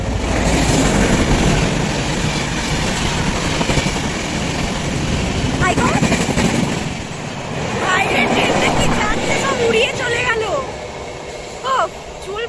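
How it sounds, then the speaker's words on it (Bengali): A train rushing past close by, a loud roaring, rattling wash of noise that fades toward the end as people talk over it. "করে সব উড়িয়ে দিল ট্রেনটা"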